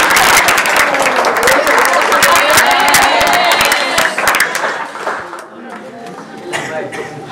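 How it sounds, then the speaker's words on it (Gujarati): Audience at a motivational education seminar breaking into steady, loud applause that fades and tapers off over the last couple of seconds, with a voice speaking over it. "સાહેબનું તાળીઓથી એનું સ્વાગત"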